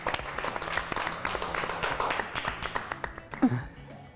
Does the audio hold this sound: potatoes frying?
no